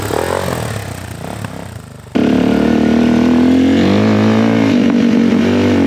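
A Suzuki DRZ 400 dirt bike engine idles roughly, then suddenly roars louder as the rider accelerates away, the engine pitch climbing steadily and staying close and loud.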